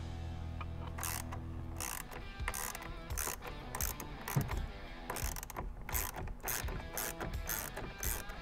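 A ratchet clicks in quick bursts, undoing a 10mm bolt inside the steering wheel of a C8 Corvette, close and crisp with short pauses between runs and a low hum early on.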